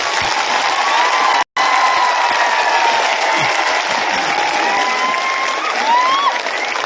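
Crowd applause and cheering at a victory celebration in Hathai Kotor marking the signing of the Tipra accord, a dense steady roar of clapping that fills the whole stretch, broken only by a brief cut partway through.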